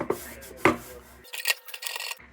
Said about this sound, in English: So I am off to the bench grinder to get this started here.